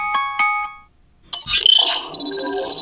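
A Motorola One Hyper plays its ringtone at maximum volume through a single bottom-firing speaker: a few bright chiming notes, a brief pause, then a busier, loud melodic passage.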